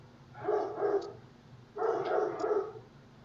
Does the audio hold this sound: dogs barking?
yes